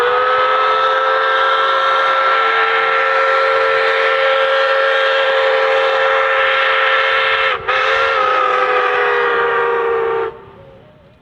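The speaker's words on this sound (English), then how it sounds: "At the end of the layover, the train pulled forward again to allow all the passengers to board." Pere Marquette 1225 steam locomotive pulling the North Pole Express sounds a loud, sustained steam whistle blast near at hand for about ten seconds, briefly dipping once before cutting off.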